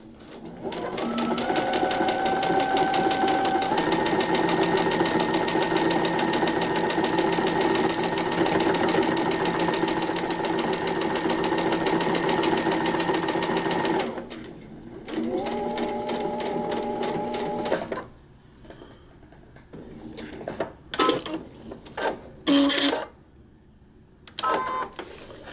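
Domestic sewing machine running steadily as it stitches a paper-pieced quilt seam, a loud continuous whir for about fourteen seconds, then a shorter burst and a few stop-start pulses with quieter handling sounds between.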